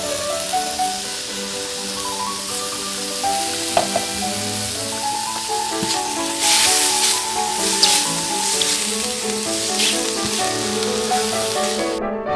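Mushrooms with freshly grated garlic sizzle and crackle steadily in a hot pan, a dense, even frying hiss with occasional stirring scrapes throughout.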